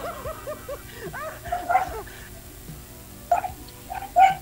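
A dog outdoors gives a string of short, high yips and barks, some clustered in quick bursts, at moderate distance over a quiet background.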